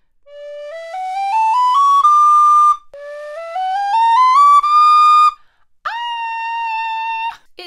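An extendable telescopic flute in D, played like a diatonic whistle, runs up two clear rising scales of bright, pure notes. It finishes on a single sustained note that wavers slightly, loud and close with no talk.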